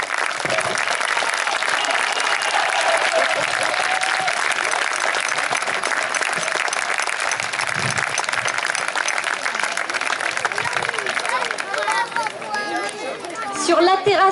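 A large outdoor crowd at a parade of troops and costumed extras applauds in a steady, dense wash of clapping with crowd chatter mixed in, continuing for the whole stretch and swelling slightly at the end.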